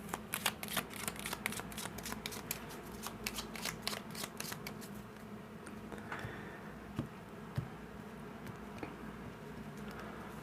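Cigano fortune-telling deck cards being shuffled close up, a quick run of crisp riffling flutters over the first half, then quieter occasional card taps and handling.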